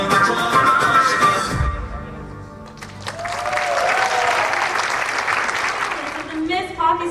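Applause swells from an audience at the Miss Pakistan World beauty pageant in Toronto, rising after music fades and holding steady, with an announcer's voice heard over it.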